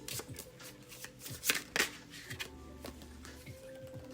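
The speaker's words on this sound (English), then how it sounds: "Let me just get one more card for advice, final" Tarot cards are shuffled close up and then drawn, a quiet run of rapid riffling flutters and soft slaps with a couple of sharper snaps in the middle and no voices.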